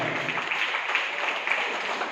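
Dense, steady applause from an audience at a film release function, with continuous clapping throughout and no voices over it.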